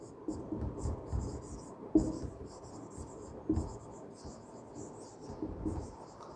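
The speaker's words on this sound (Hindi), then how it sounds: "फिर से मैं नाम लिख रहा हूं।" Quick scratchy strokes of writing on a classroom board during a metallurgy lesson, arriving in short clustered bursts close by, with low murmuring underneath.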